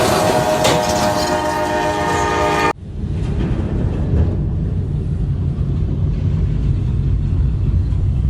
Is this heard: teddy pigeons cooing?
no